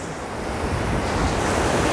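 Waves rush and churn close by in the shallows of the sea at Anapa, a dense unbroken hiss and rumble with wind noise, steady for two seconds and free of speech.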